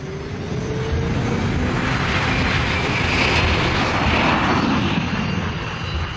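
Airliner taking off during a hijacking, its engines roaring loud and steady throughout with a broad rushing drone that swells slightly toward the middle.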